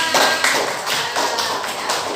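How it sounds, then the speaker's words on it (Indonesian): A class claps for an active presentation group, a dense patter of hands with several slightly louder bursts, close and lively, with no speech over it. "Tepuk tangan."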